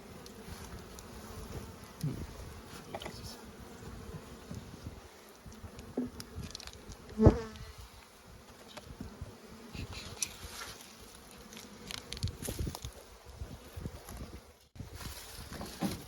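Honeybees buzz steadily around a hive while beekeepers work, a continuous insect drone with a few brief knocks and one sharp thump near the middle.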